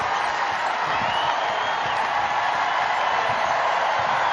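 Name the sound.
Louisville basketball fans cheering for a player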